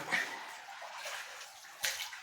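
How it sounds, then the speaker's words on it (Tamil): Water from a small waterfall splashes and rushes faintly and continuously, with a brief louder splash near the end and no voices. "ஒரு அழகிய நீர் ஊற்ற பார்த்துட்டோம் அதில் குளிச்சிட்டோம்"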